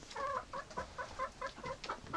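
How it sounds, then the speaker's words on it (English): Hungry breeding ducks call in a rapid, rhythmic series of nasal quacks, close and fairly loud, repeating about every quarter second with no talking. "we got some serious hungry ducks today"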